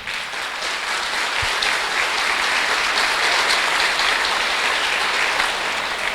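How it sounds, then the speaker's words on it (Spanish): Steady, dense applause from a church audience welcoming a Pentecostal guest to a Catholic talk, loud and continuous for the whole stretch with no speech over it. "Un aplauso pues para el hermano."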